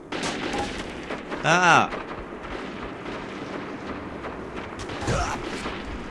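Gunfire in the Metro 2033 video game, a loud burst of shots near the start and a fainter shot later, with a voice reacting over the game sound.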